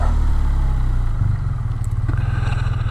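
Motorcycle engine blipped during a downshift while riding, a close steady low throb with a brief rise and pulsing rhythm over wind noise.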